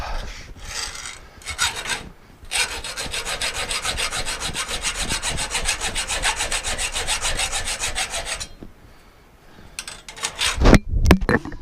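Steel part for a fire pit cover being cut with a rasping, grinding tool, loud and steady for several seconds after a short start, then stopping, followed by a few knocks and clunks; no talk.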